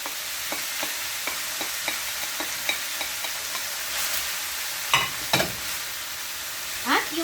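Picadillo of pork and mixed vegetables with raisins frying in a pan: a steady close sizzle with a string of light stirring clicks, then a few louder scrapes of the utensil near the end, no voices.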